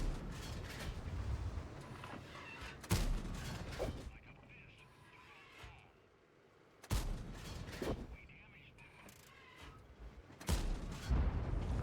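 Heavy tank cannon shots boom out in a video game, one loud blast early and another midway, each followed by a rumbling tail, with mechanical noise and a voice between.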